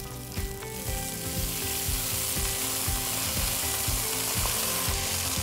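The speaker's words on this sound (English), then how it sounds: "We'll deglaze it with some Shaoxing wine." Vegetables and aromatics sizzling in a pan as Shaoxing wine goes in to deglaze for a lamb master stock, a loud, steady hiss over a repeating mechanical ratcheting clatter.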